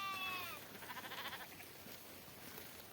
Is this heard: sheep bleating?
yes